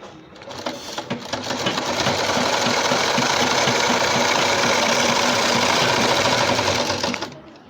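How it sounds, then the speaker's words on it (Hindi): A sewing machine runs steadily for several seconds, stitching a churidar pajami in a continuous fast mechanical whir that starts and stops cleanly, loud and close. "इस तरह से पूरी गोलाई में सिलाई लगाते चले जाएंगे"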